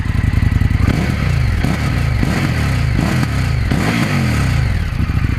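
Indian FTR 1200 motorcycle engine firing up and revving, a loud close rumble with repeated throttle blips rising and falling over a steady idle.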